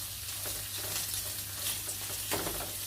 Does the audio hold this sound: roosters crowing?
no